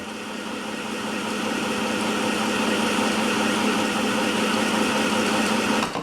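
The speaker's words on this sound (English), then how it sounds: "I'm just using my finger to get the bobbin to wind top to bottom." A Singer M1000 sewing machine winds a bobbin with a steady, close mechanical whir that runs evenly for about six seconds, then cuts off at the end.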